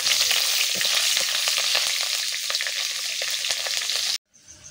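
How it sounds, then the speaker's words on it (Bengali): Black cumin seeds, cumin and green chili sizzle loudly in hot oil, with steady crackling and popping throughout before the sound cuts off abruptly near the end. "ফোড়নে দিয়ে দিচ্ছি কালো জিরে, জিরা, কাঁচা লঙ্কা।"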